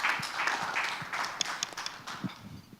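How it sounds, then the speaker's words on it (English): Audience applause at a press conference for the Standard Chartered Mumbai Marathon 2015, a steady patter of many hands clapping at moderate volume with a few sharper individual claps standing out. "Really a big round of applause for our new partner."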